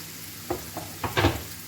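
Cubed sucuk sausage sizzles in a hot pan while a utensil scrapes and stirs a few times, producing short, close bursts of noise.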